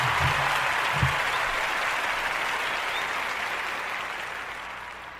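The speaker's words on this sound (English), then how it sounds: "Let's give them a round of applause." A crowd applauds election runoff winners in a dense, even patter of claps that slowly fades over about five seconds, with a couple of low thumps near the start.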